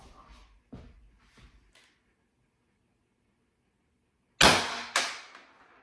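Beeman BP.50 air pistol fired once at close range, a sharp loud crack with a short ringing decay, preceded by a few quieter handling clicks and then silence.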